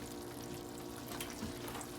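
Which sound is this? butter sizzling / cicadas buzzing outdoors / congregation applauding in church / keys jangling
butter sizzling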